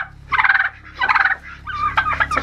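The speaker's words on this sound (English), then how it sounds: "This is an evil, evil turkey." A turkey gobbles loudly and close by, three rapid warbling bursts in quick succession with short pauses between them.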